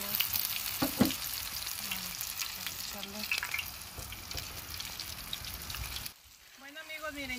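Sierra fish chops fry in hot oil on a cooking disc, a loud, dense crackling sizzle with scattered pops. The frying drops off sharply near the end, and a voice talks briefly over it.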